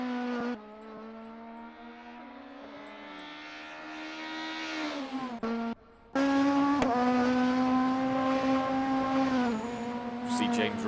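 Formula Alfa race cars on a circuit, their engines holding loud, strained, high-revving notes whose pitch rises and dips through gear changes, with a brief gap before another car screams past close by.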